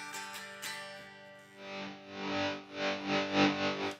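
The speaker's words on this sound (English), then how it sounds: "here's the sound of my guitar just going through the headrush" Electric guitar played through a Headrush effects unit, with clean-sounding plucked notes at first, then loud distorted strummed chords that swell and ring out in several pulses, with no talking.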